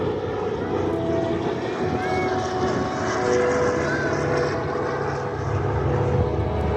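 WWII propeller transport plane That's All Brother flying past at an airshow, a steady droning engine roar rising slightly, with crowd chatter and an announcer talking over it.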